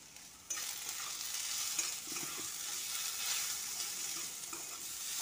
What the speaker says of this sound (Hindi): ऐसे भूंज लेंगे।